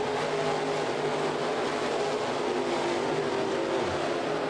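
Race cars roaring continuously along a track, a dense, steady engine drone with overlapping passing cars and no clear gaps.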